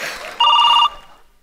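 A telephone in a Marathi comedy sketch gives one loud, clear electronic ring lasting about half a second, ending with a short fading tail over quiet room tone.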